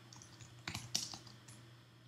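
Short burst of typing on a computer keyboard, a few quick clustered key clicks with brief pauses, close and fairly quiet over a steady low hum.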